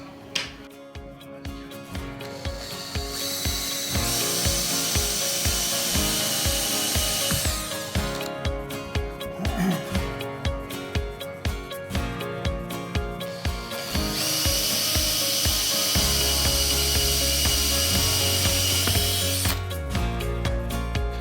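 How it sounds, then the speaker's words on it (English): A power drill boring all the way through a stack of wood pieces for a putter headcover display rack, a loud steady whir with grinding ratchety texture that pauses briefly between two long runs, close and with no talking. "So we're gonna drill all the way through"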